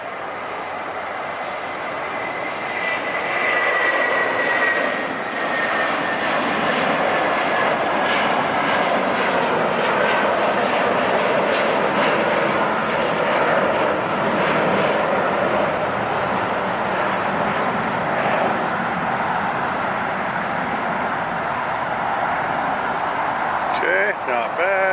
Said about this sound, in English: Alright, we have liftoff, first departure of the day.